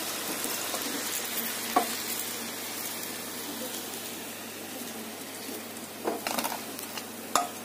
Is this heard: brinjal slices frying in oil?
yes